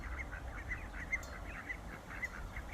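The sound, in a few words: ducks in a farm garden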